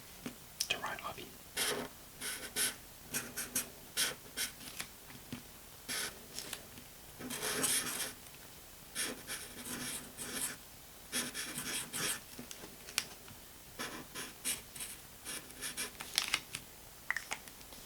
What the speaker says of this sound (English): I'll write it